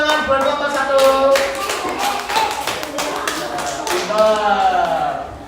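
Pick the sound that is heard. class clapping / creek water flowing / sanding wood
class clapping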